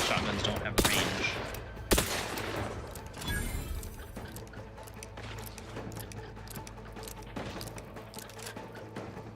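Gunfire in the Outer Worlds 2 video game: several sharp shots in the first two seconds, then a quieter, busy stretch of game sound with faint popping in the background.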